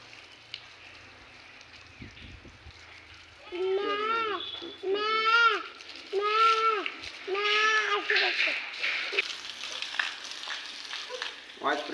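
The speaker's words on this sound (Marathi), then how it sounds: "ही बकरी" A goat bleats in a run of four or five wavering calls, fairly close, in a village setting in Ramgad, Malvan, with quiet background voices.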